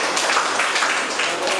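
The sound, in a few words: classroom applause for group 2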